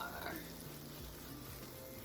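Mushrooms frying in a pan, a faint, continuous sizzle and crackle with a soft low stirring rumble, heard close up and quiet with no voices.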